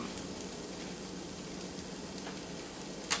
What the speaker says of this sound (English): So at this point, we just cook the garlic a little